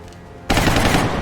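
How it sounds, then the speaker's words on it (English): A sudden loud burst of rapid infantry rifle fire erupts after a brief quiet moment and rattles on steadily in the XCOM Long War strategy game. "I'm probably going to take a couple of infantry shots."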